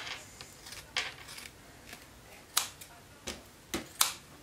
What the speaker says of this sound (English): I just have a kitchen sponge that I wet and I'm going to cut down to use